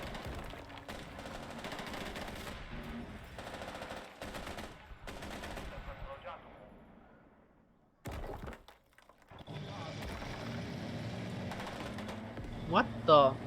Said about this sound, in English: How did a machine gun kill those two?